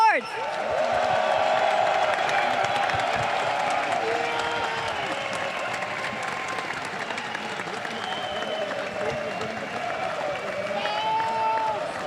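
A large arena crowd at the 2017 EU LCS Spring Finals esports event in Hamburg applauds and cheers the League of Legends champions. The sustained, dense clapping continues while an announcer speaks over it.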